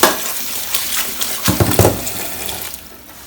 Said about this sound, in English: I am going to run some cold water